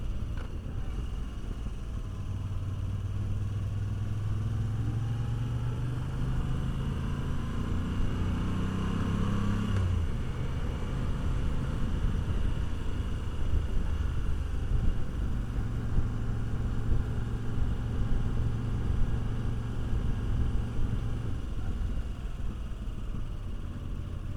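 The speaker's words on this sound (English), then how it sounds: "Gearbox feels really nice. Shifting down, no problems there." A Moto Guzzi V85TT adventure motorcycle rides along with a steady low engine drone under wind rumble, and the pitch drops and shifts as it changes down through the gears.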